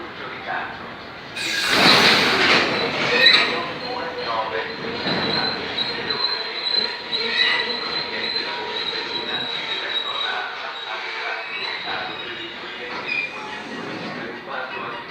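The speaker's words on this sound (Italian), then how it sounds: "treno in transito a binario 2" A train rolls through platform 2 at Castelfranco Veneto station, Italy, with a loud rush and metallic wheel squeal, the rumble easing off but continuing steadily throughout.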